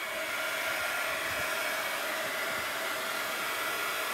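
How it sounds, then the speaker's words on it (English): A heat gun blows hot air with a steady, loud, continuous whooshing roar that holds unchanged throughout, with no voices. "I should have said heat gun alert."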